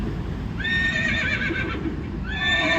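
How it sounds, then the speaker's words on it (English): A horse whinny effect plays from a ZEEKR X car's speaker, a long shrill neigh followed by a second starting near the end, heard over constant low cabin and road noise. "horse one, which is also hilarious"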